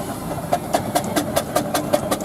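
A compound steam traction engine driving at a vintage and country show gives a regular, evenly spaced chuff of exhaust beats over a steady mechanical rumble, close and fairly loud, with no talk.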